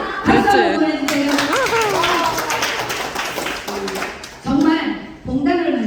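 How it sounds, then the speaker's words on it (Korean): An audience at a broadcast-speech workshop claps in a lively round of applause mixed with voices and chuckles, fading briefly before a couple of short renewed bursts. "박수 한번 보내주세요."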